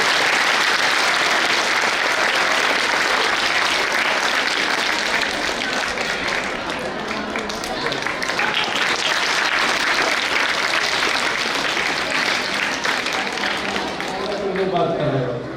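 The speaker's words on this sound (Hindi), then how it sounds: "ताली बजाएं" A large audience at an annual school prize distribution ceremony claps steadily and loudly for about fifteen seconds, a dense sustained wash of applause that tapers slightly near the end, with a voice faintly under it.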